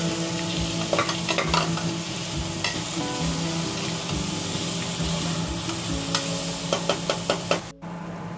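Ginger, garlic and green chili paste stirred in a frying pan with onions, a continuous sizzle under repeated scraping and knocking of the spoon against the pan, close and steady.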